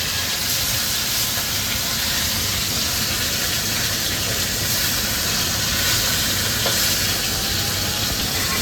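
Hilsa fish fries in a pan in a home kitchen, giving a loud, continuous sizzling hiss that holds steady throughout.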